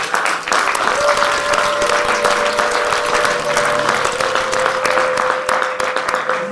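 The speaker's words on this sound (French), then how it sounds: "Les acclamations, c'est pour te souhaiter." Loud, sustained applause and cheering from a church congregation at a gospel worship gathering, continuous for several seconds with a steady tone ringing underneath.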